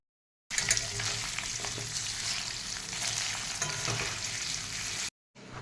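Paneer fries in oil with a continuous close sizzle and crackle, broken by occasional stirring scrapes and a short pause near the end.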